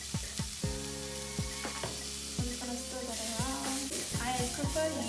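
Garlic stirred in a pan beneath a soft sizzle, with a spoon giving repeated clinking, ringing taps against the pan in an uneven rhythm, close and fairly quiet with no voice.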